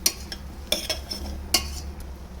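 A spoon stirring spices into vegetables in a pressure cooker, with several sharp metallic scrapes and clinks against the pot over a faint low background hum; no talking.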